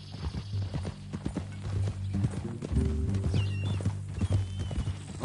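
A horse in the Red Dead Redemption 2 video game walks with steady close clip-clopping hooves, then lets out a neigh partway through, over a low background hum.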